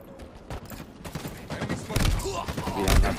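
Rapid gunfire in a multiplayer oddball match on a video game map, bursts of shots building louder toward the end while players talk over the firing.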